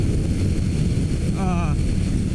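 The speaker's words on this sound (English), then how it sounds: "It's a little windy out." Wind buffets a microphone in a constant low rumble outdoors while riding a bicycle, with a brief warbling tone rising above it midway.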